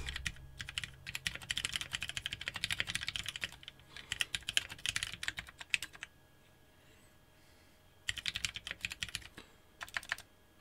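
Keys clack on a Noxary 268 keyboard fitted with slightly heavy Ergo Clear switches: fast, dense bursts of typing, a pause, then more brisk keystrokes, close and crisp.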